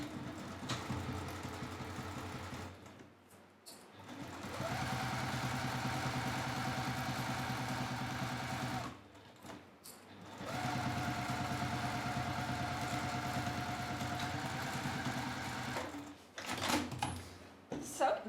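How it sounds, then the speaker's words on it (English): A sewing machine stitches the bottom seam of a sling bag, running in long steady whirring bursts with short pauses between them, close and moderately loud, while a person talks over it. "let's sew the bottom."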